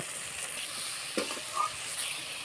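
Ingredients for a greens and egg curry fry in a pan, an even close sizzle with a few soft stirring scrapes, no voices.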